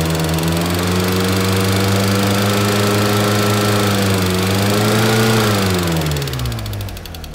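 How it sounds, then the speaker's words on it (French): Car engine, a G60 with new hydraulic lifters, runs at a steady idle with a persistent mechanical hum, rising briefly in revs then settling, loud and close, with no talking. "maintenant elle a un bruit de poussoir, c'est génial. Et ça s'entend bien, c'est bien le poussoir."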